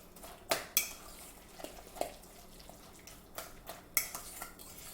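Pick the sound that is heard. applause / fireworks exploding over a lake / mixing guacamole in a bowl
mixing guacamole in a bowl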